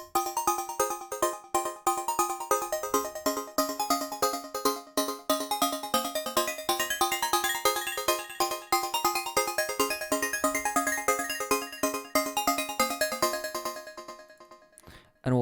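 Repro 5 synth melody for a type beat, with bright plucky notes in a steady rhythmic pattern, fairly loud and alone, ending abruptly near the close.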